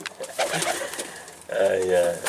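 A pigeon-like bird held in the hand gives soft, low cooing calls, close by, with someone talking around them.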